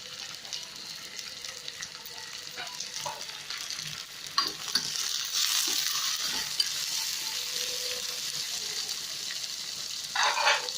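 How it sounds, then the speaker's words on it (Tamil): Raisins fry in ghee in a pan for Arabian majboos biryani, giving a continuous close sizzle with scraping and stirring noises that grows busier midway, with a little faint speech underneath. "நெய்யில் நல்லா ஃப்ரை பண்ணி எடுத்துட்டிங்கன்னா"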